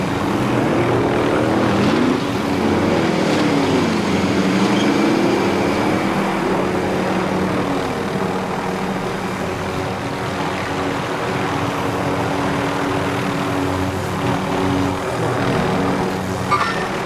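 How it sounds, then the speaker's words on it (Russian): A helicopter flies in the Call of Duty: Warzone video game, its engine and rotor drone steady and loud for the whole stretch, close to the listener, with no talk over it. "А, ты на вертушке?"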